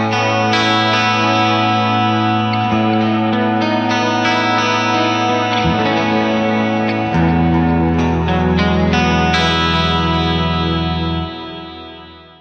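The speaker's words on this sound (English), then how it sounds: "you've got like a nice wide stereo chorus, delay, and also some reverb" Clean electric guitar through the Blackstar St James amp plugin, EL34 version, with wide stereo chorus, delay and reverb, ringing sustained chords that shimmer and trail off in echoes, loud and steady with no talking.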